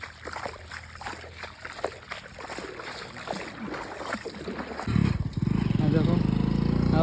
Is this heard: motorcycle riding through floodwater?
yes